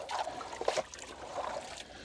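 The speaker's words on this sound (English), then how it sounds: "As you can see that the BIOFALLS is draining down now." Water trickling and draining down from a garden pond biofalls filter, soft uneven dribbling and splashing close by, fairly faint with a few brief louder gurgles.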